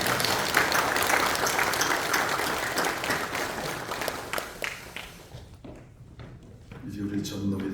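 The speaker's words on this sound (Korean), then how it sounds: "하나님께 영광의 박수" A church congregation applauds at a pastor ordination service, a dense wash of clapping that fills the room for about five seconds, then thins to scattered claps and fades as the hall settles.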